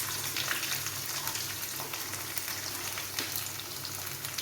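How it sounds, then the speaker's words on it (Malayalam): Shallots sizzling and frying steadily in a hot pan while making a pork roast, a dense continuous crackle close up with no talk. "ഇനി കൊച്ചുള്ളി ഇട്ട് കൊടുക്കാം."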